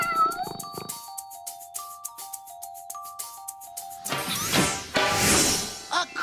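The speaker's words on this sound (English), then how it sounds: "A creeping cat?" A cartoon cat meows in a series of short, playful tones over light music, followed by a burst of noisy clatter near the end.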